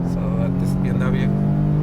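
A 2013 Infiniti G37 sedan with aftermarket intakes and headers idles steadily up close, a low rumble with a faint wavering in pitch. A voice talks over it.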